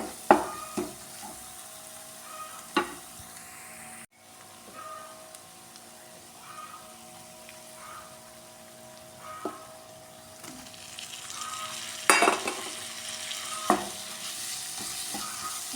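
Masala paste for a prawn roast fries in a pan, giving a steady low sizzle with occasional scraping stirs and light clinks of a spoon against the pan.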